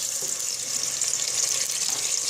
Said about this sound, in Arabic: الدجاج غادي يقلي شويه هكايا، غادي يتقلى